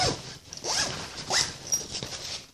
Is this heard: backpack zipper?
yes